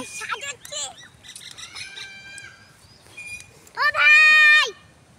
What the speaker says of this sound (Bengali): এই দেখো পাখিগুলো।